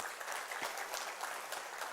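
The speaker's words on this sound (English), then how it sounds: "So a huge round of applause for all of you." A college convention audience at LPU breaks into brief, dense applause, many hands clapping together in a steady wash.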